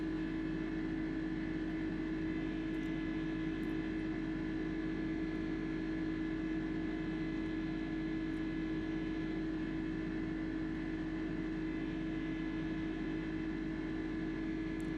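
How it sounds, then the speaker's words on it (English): Aircraft engines in a flight simulator game, a loud, steady high whine and hum that holds constant throughout without a break, with no talk over it. "Engines are screaming for a while there."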